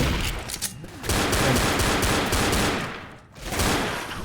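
Dense, continuous gunfire from the Left 4 Dead video game, a loud sustained barrage of rapid shots with a brief dip near the end before the firing resumes.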